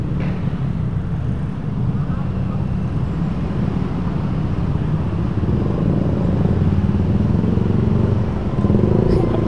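A motorcycle rides along a road in Bandung, its engine holding a steady, close rumble throughout, with people talking over it.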